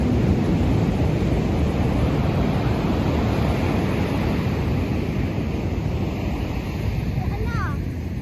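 Steady rushing surf and wind noise fill the background on an Australian salmon fishing outing, with people talking and shouting over the waves.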